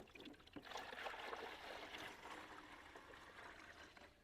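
Grape slushy mix pours into a VEVOR commercial slushy machine, giving a quiet, steady trickling splash that runs without a break for about four seconds.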